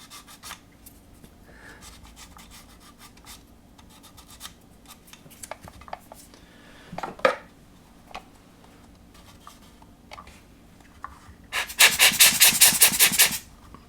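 Hand sanding of an MPC 1/24 General Lee plastic model car body with 600 grit sandpaper, quiet scratchy strokes that grow louder, ending in a burst of fast, harsh rubbing.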